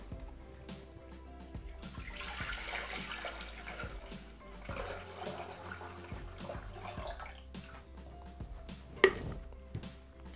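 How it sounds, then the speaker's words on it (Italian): Water poured into the bowl of a Thermomix TM6 kitchen machine, a soft, continuous splashing and trickle, fairly quiet and close, ending with a small clink. "Senza lavare il boccale, versiamo all'interno l'acqua."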